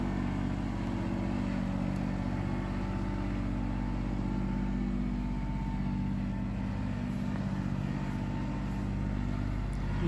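An Antonio Carraro Tigrecar 3200 mountain tractor hauls a fairly large load of wood through a garden, its engine keeping up a constant, close, steady low hum with no clear revving.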